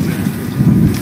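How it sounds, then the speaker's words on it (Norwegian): Strong wind buffets the microphone at a biathlon shooting range during a men's sprint race at Sjusjøen, a steady low rumble that roars on without pause for the whole moment, with no other sound rising above it. "Så får det ganske kraftig vind her, altså."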